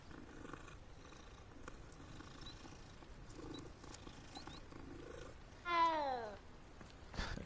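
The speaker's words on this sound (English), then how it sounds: "It sounds like the cats from Minecraft." A petted cat in a video game purrs softly and steadily at low volume, then gives one short, clear meow near the end, followed by a faint click.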